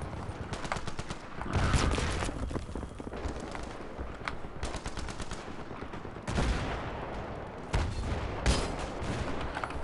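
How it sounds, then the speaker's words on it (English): Rapid bursts of gunfire in Battlefield 3 aimed at the front of a tank, loud and close, with repeated volleys separated by brief pauses. "I know shooting the front of the tank's not ideal"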